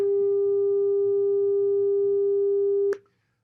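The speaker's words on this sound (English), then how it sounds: "That's a sine wave. It's kind of a boring beep." A pure sine-wave beep from a loudspeaker during a live physics-of-sound demonstration, a single steady unwavering tone held for about three seconds, then stopping abruptly with a brief click and silence.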